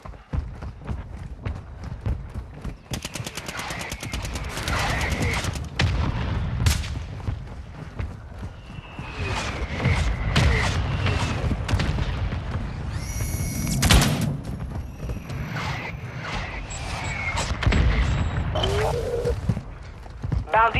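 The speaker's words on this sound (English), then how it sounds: "Mortar strike on the way." Mortar strike explosions in Call of Duty Warzone 2 boom repeatedly across the clip, heavy broadband blasts mixed with gunfire and game effects, with in-game radio voice lines heard over the action.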